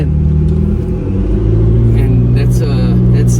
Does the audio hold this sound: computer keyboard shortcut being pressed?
no